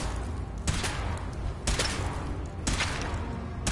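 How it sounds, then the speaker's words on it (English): Power armor weapon test in Fallout 4, a few heavy bursts of gunfire at roughly one-second intervals over a constant loud mechanical rumble, with no talk. "Okay, sure. Firing."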